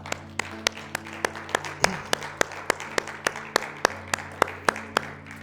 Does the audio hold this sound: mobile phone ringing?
no